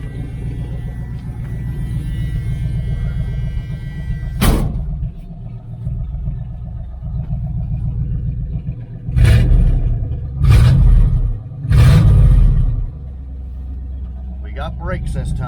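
A 1978 Dodge Aspen R/T on a rural property, its engine rumbling steadily up close with repeated loud revving bursts as it spins donuts, a sharp knock near the start and a voice talking briefly.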